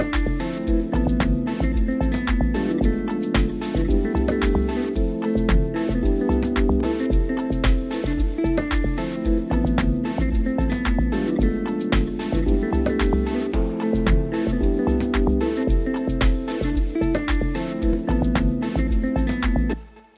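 A deep, rolling electronic amapiano bass line plays steadily under a full dance beat, looping without pause for the whole stretch.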